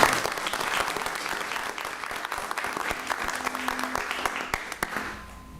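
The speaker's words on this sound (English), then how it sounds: "Give him a round of applause and welcome." An audience at a town council meeting gives a sustained round of applause, a dense wash of many hands clapping that stays loud, then thins out and fades near the end.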